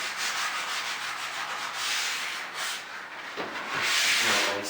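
Sandpaper rubs by hand over filled holes in white painted wood trim, making a soft, close, hissing scrape in short passes with no talking.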